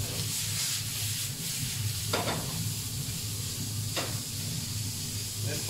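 Beef strips hit a hot pan for stroganoff and sizzle with a steady close hiss, a couple of brief sharper crackles rising over the constant frying noise.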